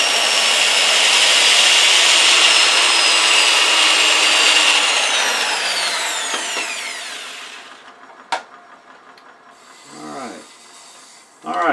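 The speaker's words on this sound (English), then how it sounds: "I'm just going to turn at pretty good speed and go in there slow" Wood turning of a pencil pot on a lathe: a loud sustained cutting hiss while the tool bites, fading as the spindle winds down, followed by a sharp knock and a few softer scraping rubs.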